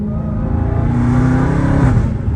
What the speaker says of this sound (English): Wow, the exhaust is something else.